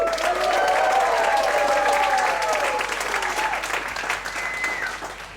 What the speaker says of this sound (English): give a warm round of applause for our first speaker